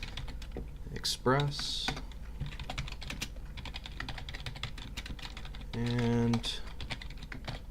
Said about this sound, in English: just going to type these out